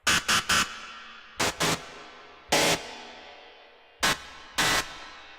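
Harsh synthesizer screech stabs from an industrial techno live set in short rhythmic bursts, some in quick pairs or triplets, each ringing out briefly, loud and with no voices.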